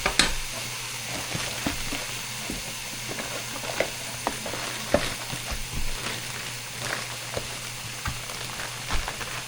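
A hybrid chicken and lamb burger sizzles steadily on a George Foreman grill, a close, soft crackling hiss with small pops and no talking.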